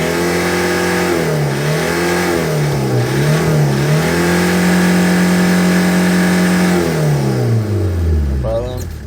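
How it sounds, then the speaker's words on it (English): A 2000 Hyundai Porter double-cab diesel truck engine with manual transmission revs up loudly and steadily, its pitch rising and falling through several throttle swells before easing off near the end. "Can you hear the engine sound?"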